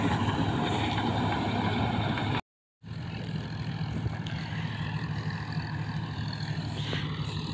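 A John Deere 5050 tractor powering a four-to-five-year-old straw-making machine, a steady droning engine and machinery hum throughout, close and loud, briefly cut to silence partway in.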